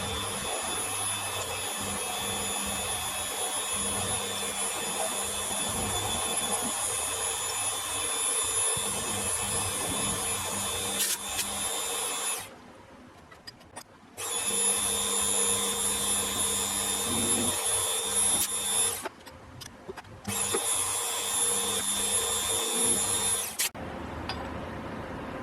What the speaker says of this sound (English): the last bit of machining I have left to do is to machine this pocket in here